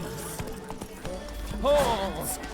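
Horse hooves clip-clopping in The Witcher 3 after a rider urges the mount on, a quick run of hoofbeats under in-game talk, with a brief whinny-like tone in the middle.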